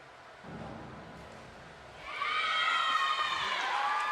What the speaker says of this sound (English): Can hear her teammates cheering